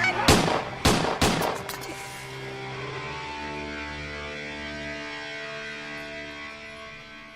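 Three sharp gunshots crack close together at the start of a police drama scene, then their echo fades into a lingering tonal ring and quiet hum.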